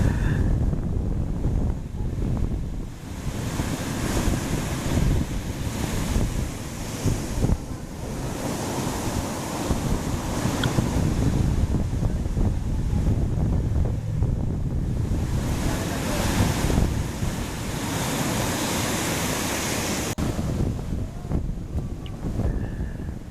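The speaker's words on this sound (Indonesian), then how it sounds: "Angin semilir dan tidak panas." Surf rolls onto Paranggupito beach in Wonogiri with a steady breeze blowing, continuous broadband wash of waves swelling and easing over about twenty seconds, wind buffeting the microphone, no voices.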